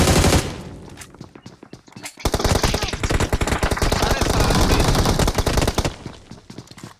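Rapid bursts of automatic gunfire in BGMI, a short volley at the start, a brief lull, then a long sustained stream of loud shots before tapering off.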